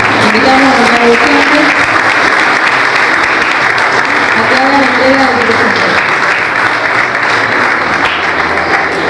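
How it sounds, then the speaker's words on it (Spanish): A school ceremony crowd claps loudly for a sixth-grade student receiving an academic award, a dense, sustained applause with voices and music-like tones running underneath. "Un fuerte aplauso para Álvaro."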